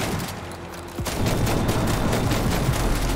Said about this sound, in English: I'm literally unloading. It's a double barrel shotgun,